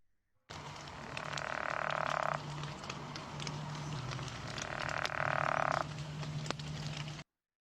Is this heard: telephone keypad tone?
no